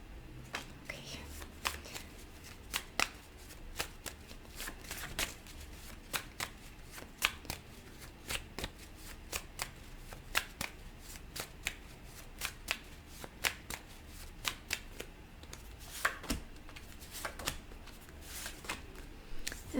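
Cards are shuffled up close in a steady stream of sharp riffles and flicks, with soft background noise between them.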